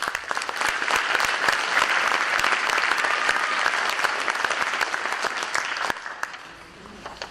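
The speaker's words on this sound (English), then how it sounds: "I ask you to join me in a round of applause to recognize the generosity of these people, families, and organizations." Audience applause fills a scholarship and awards night at Nekoosa High School, steady dense clapping from a large crowd that runs for several seconds, then thins and fades near the end.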